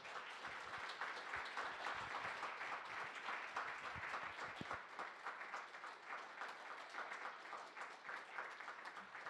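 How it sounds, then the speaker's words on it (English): Warm round of applause from a literary talk audience welcoming two authors on stage, dense steady clapping heard at some distance and fairly quiet, continuing evenly throughout. "Everybody, please give a warm round of applause to Rachel Greenwald Smith and Zadie Smith."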